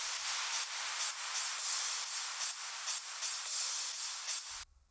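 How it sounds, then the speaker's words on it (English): A continuous crash cymbal loop layer in a progressive house drop made in FL Studio washes in bright, hissy pulses on every beat, steady and loud, then cuts off abruptly at the end. "We have 1 crash loop layer that plays continuously out for the 8 bars to keep the energy going."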